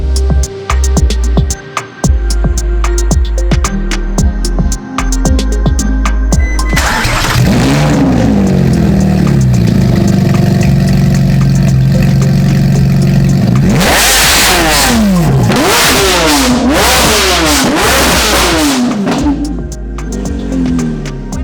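A 2020 Audi R8 sits with its engine ticking and idling before it fires up with a bark, then revs repeatedly in sharp rising and falling sweeps, loud and close, with a settled idle between bursts.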